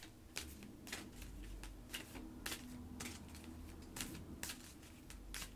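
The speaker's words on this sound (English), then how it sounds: "I'm going to shuffle the cards." Oracle cards are shuffled in a quiet room during a new moon reading, giving a string of soft, crisp riffling bursts roughly once a second over a low background hum.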